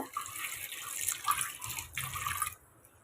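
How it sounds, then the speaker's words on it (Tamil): Water pours from a tap into a cooking pot of dal and tomato for a sambar, a steady close splashing stream lasting a few seconds, then cutting off abruptly near the end. "இப்போ நம்ம பருப்பு முங்குற அளவுக்கு தண்ணி சேர்த்துக்குங்க"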